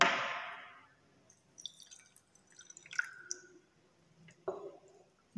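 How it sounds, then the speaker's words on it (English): Water is poured into a glass beaker holding calcium oxide powder: a short splashing pour that fades within a second, then scattered soft drips and small clicks of glass in a quiet room. "So now let us add this water in the beaker."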